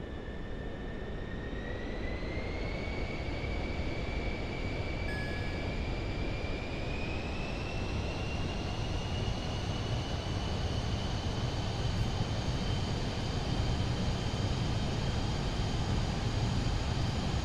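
Airliner jet engines in Microsoft Flight Simulator 2024 spool up during a takeoff roll, a loud, steady roar with a rising whine that climbs slowly and holds throughout, with no voices.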